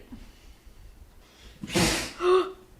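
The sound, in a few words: sneeze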